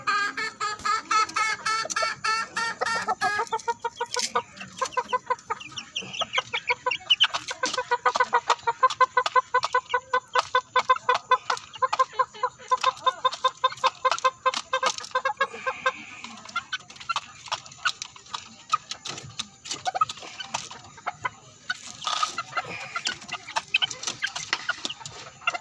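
Pet chickens cluck steadily and busily while being fed, a dense run of close, sharp clucks with brief louder bursts and no talk over them.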